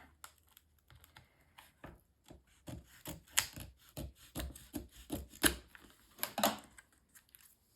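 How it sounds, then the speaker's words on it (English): An acetate sheet for a ship wheel mini album is trimmed by hand, giving a quiet series of close, irregular snips and scrapes with short rasping bursts, recorded alone. "And then I'm actually going to need to trim this."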